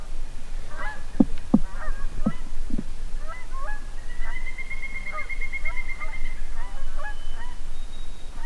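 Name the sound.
Canada geese honking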